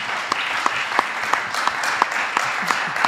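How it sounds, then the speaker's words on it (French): Loud applause from a crowd, dense and sustained, with a few sharper individual claps standing out in a rough rhythm. "Je pense que déjà on peut applaudir ce palmarès incroyable."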